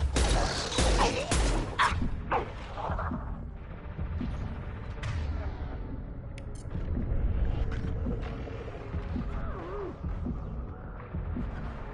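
Mass Effect 2 gunfire, with sharp bursts of rapid shots up front, then a low mechanical hum and scattered metallic clanks and creaks under the action.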